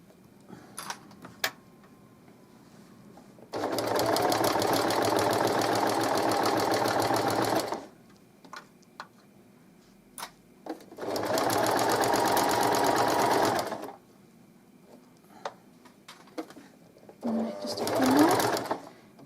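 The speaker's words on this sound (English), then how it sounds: "do a few reverse stitches so it makes it secure when you're turning it through" A sewing machine stitching a double-sided baby blanket runs in two long steady bursts and a short final burst, with quiet gaps and a few clicks between runs.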